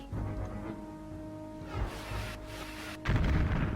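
Ships firing weapons in the space strategy game Master of Orion II, a series of low synthetic booming shots over a steady electronic hum, with a heavier blast near the end.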